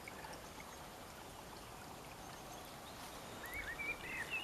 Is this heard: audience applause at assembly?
no